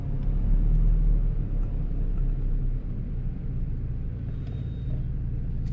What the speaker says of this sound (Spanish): Vamos a esperar que pase ese carro para ir a chequear qué es lo que tienen esas.